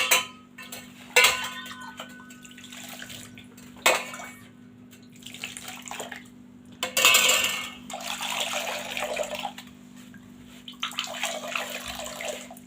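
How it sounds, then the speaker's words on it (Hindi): Water pours and splashes in several bursts with gaps between into a thandai mixture, alongside occasional clinks of a utensil against a container, close by. "पानी थोड़ा इसमें और ऐड करेंगे।"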